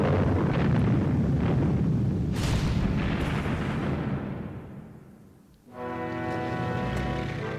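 Massive Soviet artillery bombardment on German assault troops near Stalingrad: a dense, continuous roar of heavy explosions with booming low rumble, fading to a lull before another loud blast-filled barrage resumes, no voices.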